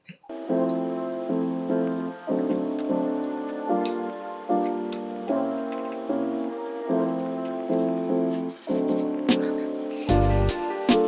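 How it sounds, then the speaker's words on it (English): Protective top coat sprayed from a can onto custom-painted FootJoy golf cleats in a series of about ten short, even hissing bursts with brief pauses between them, close and clear, with a louder rattle or blast near the end. "we are now ready to throw a top coat on this, which is going to protect the paint"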